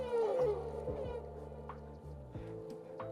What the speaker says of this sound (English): It's a lot of elephants.